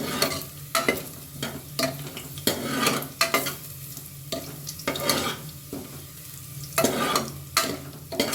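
Garlic sizzles in a pan for a Yadgir-style lentil saaru and is stirred with a spoon: steady frying hiss broken by repeated close scraping strokes in an irregular rhythm, with no voices.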